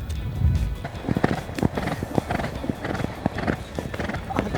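A horse walks on the beach under a rider, its hooves clip-clopping in an irregular, fairly close rhythm, with some faint voices around.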